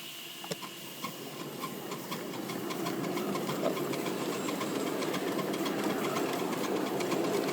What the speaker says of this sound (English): Now to move the engine, you just open the regulator very slowly.